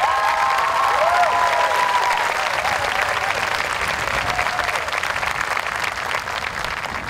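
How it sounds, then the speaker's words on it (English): A high school graduation crowd at Petaluma High applauds its teachers, a broad, sustained roar of clapping that stays loud and even before easing slightly toward the end, with faint cheers drifting through. "I invite you, the class of 2015, to applaud all our teachers for their work."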